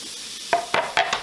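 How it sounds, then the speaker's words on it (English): Onion and jalapeno hitting a hot pan while cooking shrimp, giving a low steady sizzle that surges in four short bursts as the pieces are stirred and moved, close by with no talking. "add our onion and our jalapeno just before it starts to brown over here"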